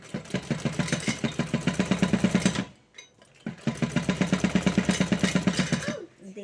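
Sewing machine stitching a blouse, running in a fast rhythmic clatter of needle strokes, pausing for about a second midway, then running again close and loud.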